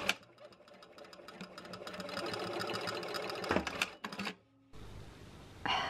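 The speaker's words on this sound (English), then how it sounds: "Going to leave this on the 3mm and do a back stitch" A sewing machine set to 3mm back stitching runs in a fast, rapid clatter for about four seconds, with a brief stutter near the end. It then stops, leaving a quiet hum and a short hiss.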